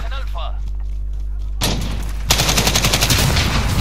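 Gunfire in the video game Call of Duty Modern Warfare: a low rumble with a distant voice, then a burst of loud shots that gives way to rapid automatic fire, dense and close, over a steady game soundtrack.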